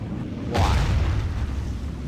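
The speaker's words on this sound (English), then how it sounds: "He's got shells landing in front of him. Mortar going off next to him." A single heavy mortar shell bursts close by during a video game siege battle, a sudden deep boom that rolls off into a rumbling tail.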